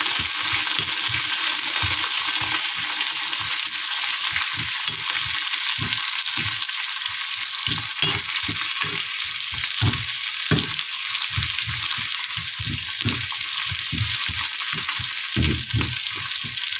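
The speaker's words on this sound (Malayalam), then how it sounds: "ഇതെല്ലാം കൂടി നന്നായിട്ടൊന്ന് വഴറ്റിയെടുക്കാം" Dried red chillies, shallots and curry leaves sautéing in a pan for sambar, a continuous bright sizzle under a rapid series of dull spatula knocks and scrapes against the pan, with no speech.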